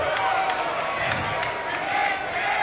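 A Houston crowd at the Madden 17 Madden Bowl finals cheers and murmurs encouragement in a steady, fairly loud roar, with a commentator talking over it.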